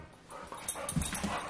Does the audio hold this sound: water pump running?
no